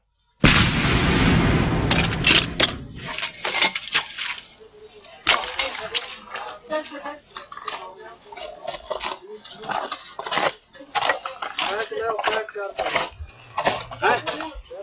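Artillery gun firing on the Siachen Glacier at high altitude, with a loud broadband blast at the start, then a sharp second report around five seconds, followed by scattered cracking impacts and rumbling through the rest.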